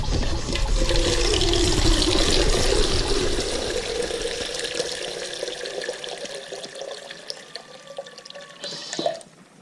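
Water runs hard from a tap, a loud close gushing splash that gradually softens and thins before cutting off near the end.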